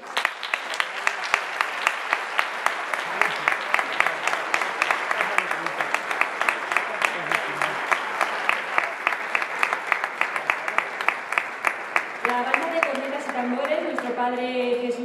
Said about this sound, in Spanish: Vamos a darles un muy fuerte aplauso.